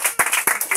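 A church congregation claps for Jesus in a short, lively burst of hand claps, several sharp rounds close together and fairly loud.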